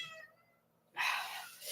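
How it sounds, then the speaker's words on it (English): Cat gives a loud, drawn-out meow close by after a faint earlier cry, in a room during a live stream. "Oh my goodness, cat. Why are you yapping?"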